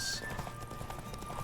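Roach, a horse in The Witcher 3, gallops in a rapid clip-clop rhythm at close range, hoofbeats running steadily under a faint tonal background with a brief whinny-like burst at the start.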